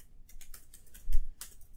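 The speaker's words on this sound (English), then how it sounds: "just typing something" Typing on a computer keyboard: a close, steady run of quick clacking keystrokes with a slightly heavier press midway, and no voices.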